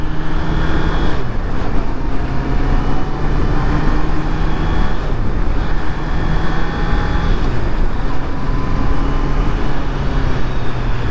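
Honda motorcycle fitted with E-Clutch riding and shifting up through the gears, a loud, constant engine drone with heavy wind rush and slight pitch changes between gears.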